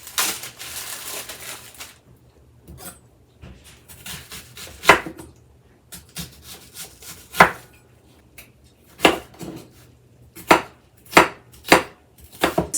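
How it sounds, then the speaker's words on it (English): Half an onion chopped with a knife on a board: a run of sharp, irregular knocks and cuts, some in quick clusters, close and fairly loud with no talk. "we're gonna get our onions chopped"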